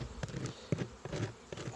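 Honeybees buzzing close by at a beehive during a spring hive inspection, a faint wavering hum broken by a few short louder passes, with no talk.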